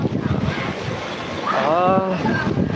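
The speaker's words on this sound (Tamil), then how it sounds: "காற்றுங்க, செம்ம காற்றுங்க." Strong wind gusting at Tirupathi, a rough, blustery roar buffeting the microphone, with a voice speaking over it partway through.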